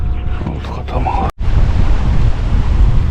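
Strong wind buffeting the microphone beside a lake during a carp fishing trip as a storm approaches, a loud continuous roar with one brief dropout.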